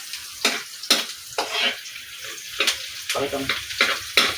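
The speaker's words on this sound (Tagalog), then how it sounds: "nagisa na ako ng bawang at sibuyas" Garlic and onion sauté in a hot pan for eggs adobo, a steady soft sizzle with scraping stir strokes breaking through, while a voice talks briefly over it.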